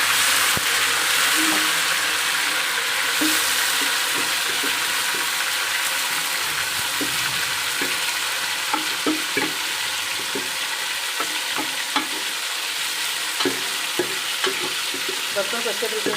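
Camel meat hits hot oil in a cooking pot, a loud steady sizzle and crackle with scattered pops and occasional stirring clatter throughout.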